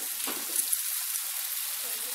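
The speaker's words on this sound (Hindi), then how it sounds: "इन सबको लाल होने तक अच्छी तरीके से फ्राई करेंगे।" Onions and tomatoes fry in a pan for kadhai paneer, giving a soft, steady sizzle with faint crackles close by, no voices over it.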